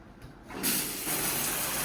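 Water gushes from a household tap with strong pressure, a steady close rushing stream that starts abruptly after a quiet moment and keeps running without a break.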